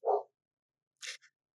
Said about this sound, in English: If you hear a dog barking in the background, my dog must be hearing something outside.